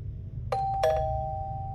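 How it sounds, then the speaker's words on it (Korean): A front-door doorbell rings with two bright chimes in quick succession, the second tone lingering and fading slowly over a low steady hum, with no voices present. "현관에서 초인종이 울렸다."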